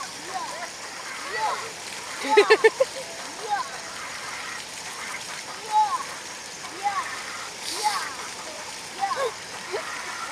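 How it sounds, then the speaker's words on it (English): A child slaps and splashes water at an outdoor splash pad, with scattered short splatters and one louder burst of splashing, all over a steady hiss of running water. "This kid's hitting the water and he thinks that's the greatest thing ever."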